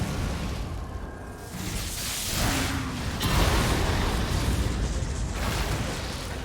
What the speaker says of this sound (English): the dragon explosion is nuts